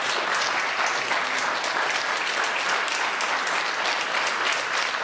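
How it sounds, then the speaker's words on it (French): An audience bursts into sustained applause, a dense, even wash of many hands clapping that stays at a steady level throughout, with no talking over it. "je pense que là on peut les applaudir"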